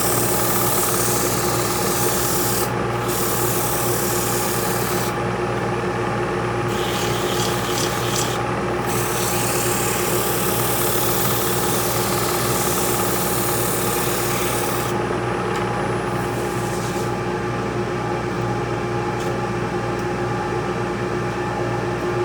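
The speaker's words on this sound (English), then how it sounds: "And that gets sanded." Steady, continuous rasping and rubbing as a black walnut bowl with hairy grain is sanded while spinning on a lathe, loud and close with only brief dips in texture and no talking.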